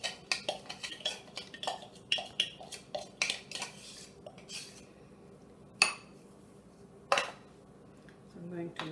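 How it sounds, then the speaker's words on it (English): A spoon mixes coconut chutney ingredients in a bowl, producing a run of quick rhythmic scrapes and clinks that slows to a few louder taps, with no talking over it. "So now we are going to mix the ingredients in here."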